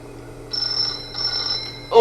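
A telephone rings in two bursts of trilling electronic tone over a quiet room hum, with a louder clatter at the very end.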